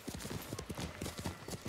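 Horse hooves clip-clop in a steady trotting rhythm in Ghost of Tsushima, close and clear, with a faint game ambience behind them.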